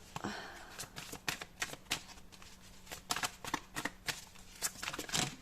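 Tarot cards are shuffled by hand in a dense, rapid flurry of papery riffles and flicks, close and continuous, while a voice speaks softly over part of it.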